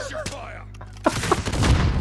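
Video game gunfire rattles in short, sharp bursts, with a few shots close and loud and others farther off, while a voice speaks briefly over the shooting.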